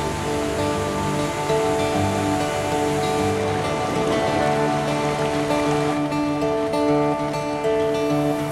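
A waterfall in the Carpathian mountains pours in a steady, loud, unbroken roar of rushing water, close and constant throughout with no voices.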